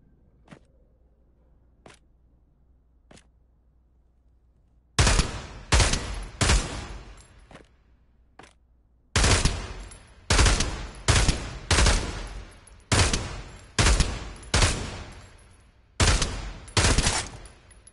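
Bursts of gunfire ring out while shooting at targets in a video game: a few faint clicks, then a loud series of sharp, close shots fired in quick clusters and pairs, with no talking.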